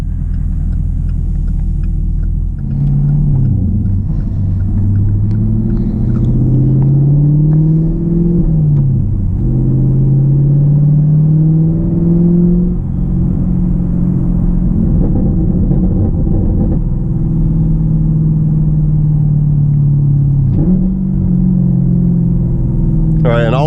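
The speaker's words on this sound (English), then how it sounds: "The pops and burbles with that MBRP exhaust sound, amazing." A 2020 Chevrolet Camaro SS 1LE with a manual gearbox and MBRP aftermarket exhaust rumbles loudly and continuously, its deep engine note rising and falling with revs, with a sharp burst near the end and someone talking over it.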